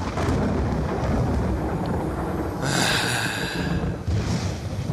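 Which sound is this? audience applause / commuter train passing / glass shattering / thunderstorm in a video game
thunderstorm in a video game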